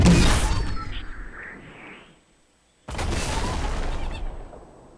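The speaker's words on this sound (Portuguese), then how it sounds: "Belo tiro de merda que eu dei aqui." A sniper rifle shot in Fortnite cracks out loud with a booming tail that fades to near silence, followed by a second burst of loud, noisy game audio.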